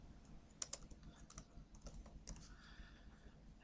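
Sparse, uneven clicks of someone typing on a computer keyboard, a few sharp keystrokes standing out above a low steady room hum, close and fairly quiet with no talking.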